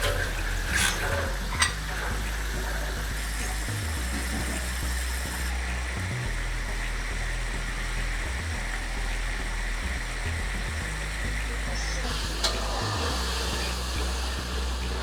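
Spice masala sautéing in a pan for aloo dum, a continuous sizzle with low rumbling bursts from stirring, steady and close throughout.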